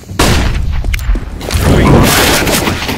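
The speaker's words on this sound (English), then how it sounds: "Deploying flashbang." A flashbang grenade detonates in CS:GO, a sudden loud blast followed by a sustained ringing, rumbling wash of noise, close and dominant with no talking.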